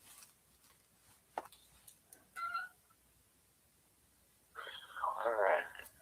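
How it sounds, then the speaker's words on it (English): A cat meows in the background of a quiet room, with one short cry and then a longer, louder wavering meow near the end, plus a few faint clicks in between. "And Yamano, am I hearing a cat in the background?"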